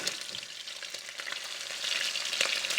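Steady, crackling sizzle of chicken cordon bleu frying in hot beef tallow, with dense popping and spitting that grows slightly louder toward the end.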